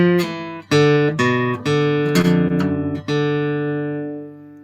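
Electric guitar picks a single-note blues phrase in D with a bent flatted third, about seven plucked notes ringing with clear harmonics and a long final decay, solo with no talk.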